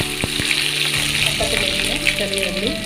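Small shallots frying in hot oil with mustard seeds and fenugreek for sambar, a steady close sizzle with stirring and faint voices in the background throughout.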